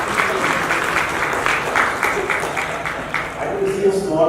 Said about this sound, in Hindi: जोर से ताली बजाइए प्लीज